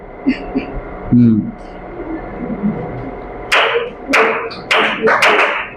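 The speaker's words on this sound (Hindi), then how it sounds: "सभी बच्चे मिलके वेलकम ताली बजाएंगे" A group of children claps together in a short rhythmic welcome pattern in a classroom, sharp bursts of claps arriving in quick sets after some quieter talk and shuffling.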